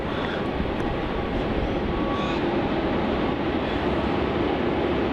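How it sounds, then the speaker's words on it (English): A Virgin Australia jet on the Sydney flight rumbles at Melbourne Airport, a steady broadband engine roar holding at even loudness throughout. "Here's that Sydney flight there for Virgin Australia."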